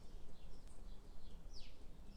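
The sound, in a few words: birds singing in a garden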